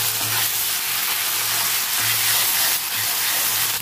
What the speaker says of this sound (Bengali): পেঁয়াজ কুচি, টমেটো কুচি, আলু কুচি, লবণ দিয়ে হালকা একটু হালকা ভেজে নেব